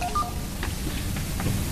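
A cellphone is dialed, giving a few short electronic tones near the start and then soft key taps spaced about half a second apart over faint room noise.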